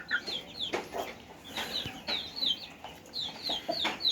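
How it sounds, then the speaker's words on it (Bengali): A small flock of desi hens and roosters clucks close by, with repeated short, throaty clucks and calls coming in irregular bursts over faint background noise. "এই 2টা দেশি মোরগ, আর 1 2 3 এই 3টা হচ্ছে দেশি মুরগি।"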